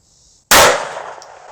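A single sharp shot cracks from a badly performing gun that keeps hitting high, very loud and close, with a short decaying tail after the blast.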